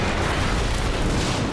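An explosion in the video game Quantum Break: a loud, sustained broadband roar and rumble filling the whole moment, steady and dense with no distinct onset and no voices.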